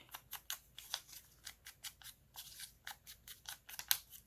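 Paper being cut with scissors: a steady series of about a dozen crisp, close snips at an even, quick rhythm, alone with no talk.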